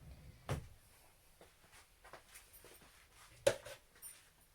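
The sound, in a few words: rummaging through kitchen drawers and cupboards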